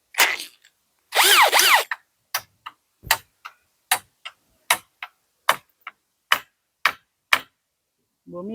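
A drill boring holes gives a short, loud whirring burst. A steady series of sharp, evenly spaced knocks follows, close by and alone with no talk.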